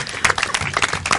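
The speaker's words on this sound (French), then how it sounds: "ça mérite des applaudissements" Audience applause on a Congolese television talk show, a brief burst of dense clapping at moderate loudness, with a little voice mixed in.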